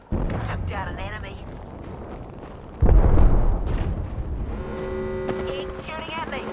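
Gunfire in Apex Legends cracks out in rapid shots and bursts amid a heavy blast and mechanical game effects, loud and close, with a voice speaking over part of it.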